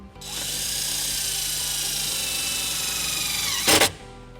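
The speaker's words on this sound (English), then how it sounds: "using the included self-tapping screw, we're going to go ahead and ground our white wire to this sheet metal right here" A power drill drives a self-tapping screw into sheet metal inside a 2015 Nissan Murano during a wiring harness install, a loud steady whine held for several seconds before a brief rising grind as the screw seats.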